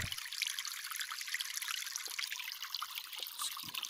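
Water trickling and pouring steadily as crops are watered in the farming video game Harvest VR, a continuous light splashing with a few soft knocks and no talk.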